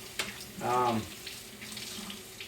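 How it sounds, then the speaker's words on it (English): Tap water runs briefly into a kitchen sink to rinse a cutting board, a short close gush lasting about half a second, then quiet room noise. "I'll rinse that baby off. Over here."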